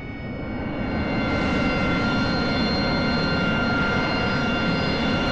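AV-8B Harrier jet engine running steadily after start-up in the DCS flight simulator, a loud, constant broadband roar with a high whine, rising slightly at first and then holding level throughout.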